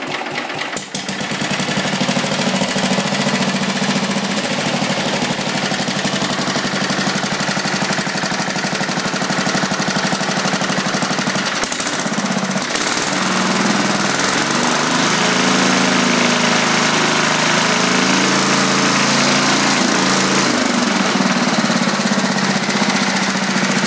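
A 1969 hydrostatic garden tractor engine runs loud and close for the whole stretch, a harsh, rapid knocking rattle with a steady mid-pitched drone that wavers slightly.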